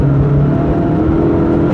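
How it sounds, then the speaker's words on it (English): Turbocharged four-cylinder engine of a 2008 Dodge Caliber SRT-4 pulls hard at full throttle, a loud close droning roar with a steady engine tone and faint whir, heard from inside the car. "Roll into it, turbo spool to the floor."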